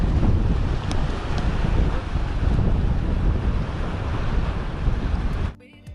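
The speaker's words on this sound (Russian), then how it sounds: "В общем, дует сумасшедший ветер." Strong wind buffets the microphone by the sea at Sharm El Sheikh, a continuous loud roar mixed with surf noise, then cutting off abruptly near the end.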